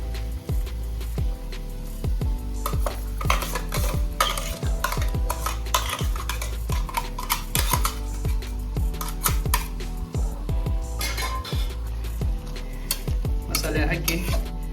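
A pan of cooked-down tomatoes with ground masala of coconut, ginger, garlic, cinnamon, clove and cardamom is stirred steadily, the spoon scraping and clinking against the metal in a repeating rhythm over a soft sizzle.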